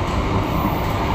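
The KA Malioboro Ekspres passenger train rolls along the line near Bagor in Nganjuk, a loud, continuous rumble heard from inside or close by.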